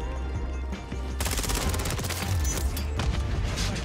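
Rapid automatic fire from an ISO 9mm submachine gun in Call of Duty MW3, with dense bursts of close gunshots running almost continuously over game background noise.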